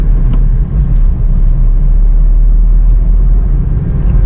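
A car creeping over a run of speed bumps in second gear, heard from inside the cabin as a loud, steady low engine and road rumble with slight dips, no talking.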